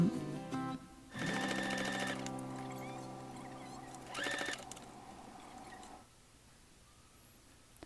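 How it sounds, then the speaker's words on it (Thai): A sewing machine stitches a fabric face mask in two bursts of rapid, humming motor-driven stitching, the first about a second long and the second shorter, over a quiet room background. "เราจะเย็บกด ย้ำ ย้ำ"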